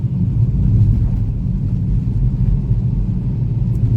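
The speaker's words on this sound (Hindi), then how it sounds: "ये पूरा हैदराबाद की ओर जाता हुआ ट्रैफिक है या कहीं और का पता नहीं।" Steady low rumble of road traffic on a highway in Telangana heading toward Hyderabad, near Sangareddy, with cars passing continuously close by, loud and unbroken with no voices.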